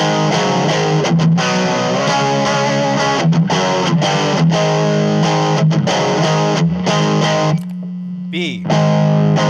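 Electric guitar through a budget overdrive pedal, a Behringer OD300 or Flemma FC07, plays chunky, distorted chords and riffs, loud and sustained, with a short quieter gap before the crunchy tone returns.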